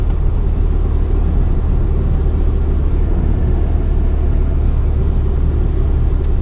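A 20-year-old BMW E36 318i on the move, steady low engine and road rumble filling the interior, constant and fairly loud with no speech.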